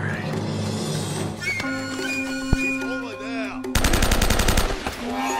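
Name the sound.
gunfire in the video game Uncharted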